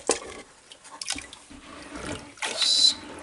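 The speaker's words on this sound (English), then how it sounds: "Let me get some more water in here." Water splashes and pours into a wash basin in a few uneven bursts, with a louder gush near the end, close by and without talk.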